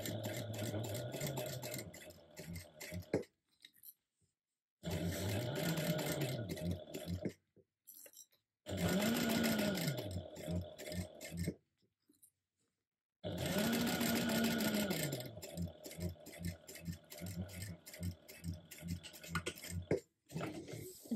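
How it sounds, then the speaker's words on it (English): A sewing machine top stitches along the folded seam of a fabric clutch bag in four bursts of steady, fast needle chatter, each a few seconds long with pauses between, close and clear with no talking. "you can top stitch 1/8 of an inch away from that"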